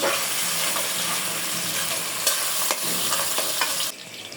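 Half a cup of spice paste frying in hot oil with bay leaf and garam masala for a mutton and lentil murighonto: a loud, steady sizzle with stirring scrapes, cutting down sharply near the end.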